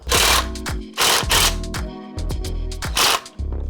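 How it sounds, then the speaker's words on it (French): Impact wrench bursts loosening car wheel nuts one after another in a star pattern, several loud whirring rattles of about half a second each separated by short pauses, close and alone. "On va dévisser, tac, tac, tac, en étoile céleste"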